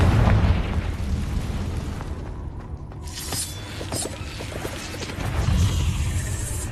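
A Confringo fire spell in Hogwarts Legacy, heard as booming blast and crash effects with crackling debris and rumble inside a cave, loud and dense throughout.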